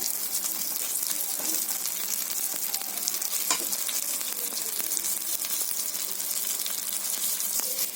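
Chopped tomato going into a frying Bengali country-chicken curry, producing a loud, dense, unbroken sizzle close up with faint stirring scrapes and bubbling throughout, no one talking.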